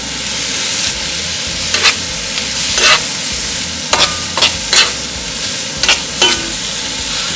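Beef frying in a pan, a steady loud sizzle close up with several sharp bursts of stirring and spatter spaced through it, no talk.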